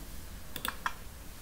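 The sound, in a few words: keyboard keys pressed for Ctrl+V paste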